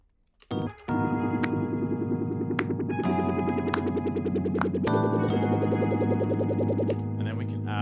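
A synthesizer layer with automation plays sustained, buzzy chords rich in harmonics after a short rising swell, shifting pitch and texture in steps as the layer evolves, loud and alone.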